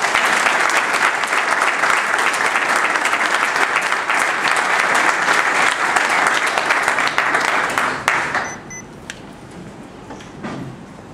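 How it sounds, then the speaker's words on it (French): An audience at a political speaking event gives loud, sustained applause for an arriving politician. It stays dense for about eight seconds before thinning into scattered claps and fading. "Donc je vous demande d'applaudir très fort."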